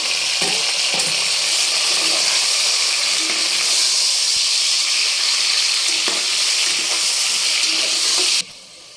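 Onions for chicken fry biryani sizzling and frying in a pan, a loud, steady hiss with faint stirring clicks throughout, dropping off abruptly near the end.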